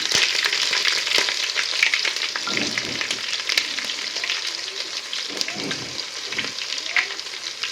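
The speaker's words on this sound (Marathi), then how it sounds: "जिरे मोहरी ताडताडले की त्यात मी खडा मसाला टाकून घेते आणि लसूण" Cumin, mustard seeds and whole spices crackle and sizzle steadily in hot oil at close range, a dense continuous frying hiss with scattered popping throughout.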